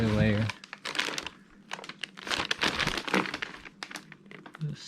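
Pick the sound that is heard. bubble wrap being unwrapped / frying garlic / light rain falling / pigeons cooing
bubble wrap being unwrapped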